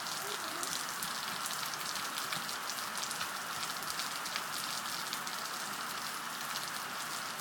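Steady rain falls and patters on surfaces outdoors, a continuous dense hiss that holds evenly throughout with no voices.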